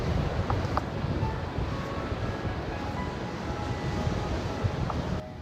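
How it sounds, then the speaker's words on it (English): Wind buffets a microphone on a beach among eroding dunes, a constant low rumbling roar with gusty swells and a faint wash of surf behind it. "Hope you can hear me because of this wind."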